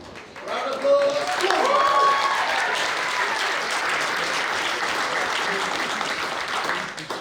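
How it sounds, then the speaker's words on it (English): Wedding guests at the reception give the best man a sustained round of applause, loud and steady clapping filling about seven seconds with a faint crowd murmur underneath. "Round of applause."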